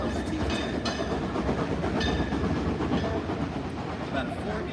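A train passes nearby with a loud continuous rumble and rhythmic clatter, steady throughout, with some faint higher squeals over the roar.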